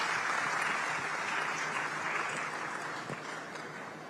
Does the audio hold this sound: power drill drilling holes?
no